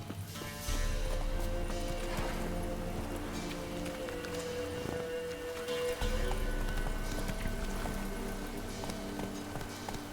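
A horse gallops in The Witcher 3 video game, its hooves making a steady, rhythmic clip-clop at moderate loudness over a dense ambient backdrop, with an occasional soft snort.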